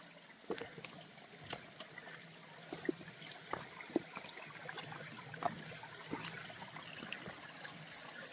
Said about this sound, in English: Nice little stream of water.